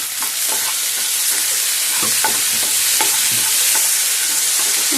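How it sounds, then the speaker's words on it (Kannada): Onions and tomato fry in a hot pan while being stirred, a loud steady sizzle broken by repeated scraping strokes of the spoon. "ಈರುಳ್ಳಿ ಬೇಗ ಫ್ರೈ ಆಗಿಬಿಡುತ್ತೆ. ಸೊ ಈರುಳ್ಳಿ ಎಲ್ಲ ಫ್ರೈ ಆಯಿತು. And next let's put tomato."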